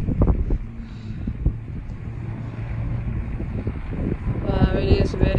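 Strong winter storm wind in Boston batters the microphone with a loud, continuous roar and rumbling gusts, and a voice is briefly heard amid the noise.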